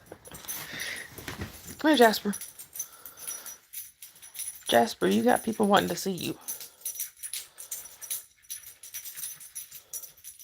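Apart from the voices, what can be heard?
dog whimpering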